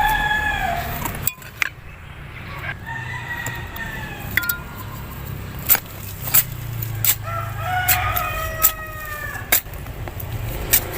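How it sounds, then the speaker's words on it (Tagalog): A native chicken from Mindanao crows several times in drawn-out calls, near and fairly loud, with other clucking and sharp clicking noises scattered around it. "may alaga tayong manok dito"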